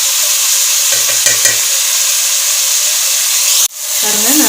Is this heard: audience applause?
no